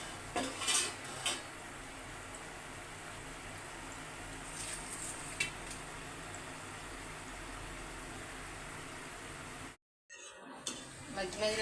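A ladle scrapes and clinks against a pot while sesame chegodi snacks fry in oil, giving irregular metallic knocks over a steady frying hiss, with a brief dropout near the end.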